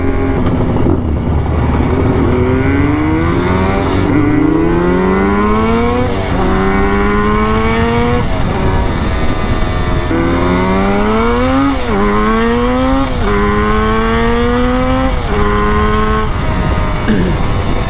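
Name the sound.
Yamaha RD350 cafe racer motorcycle engine at quarter throttle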